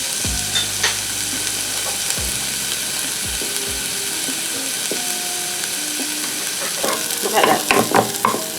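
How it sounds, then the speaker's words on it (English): Shrimp fry in a pan with a steady, bright sizzle throughout, broken by a few clattering utensil scrapes and clicks near the end, and a brief spoken remark. "I wanted to cook the shrimp a little bit."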